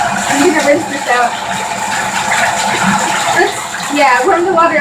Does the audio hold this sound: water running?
yes